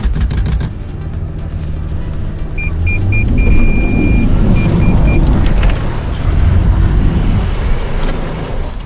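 A lifted Toyota 300 Series Land Cruiser fitted with Baja kits climbs an off-road test track, its engine giving a steady, close, low rumble that swells midway, with a faint electronic beep briefly in the background.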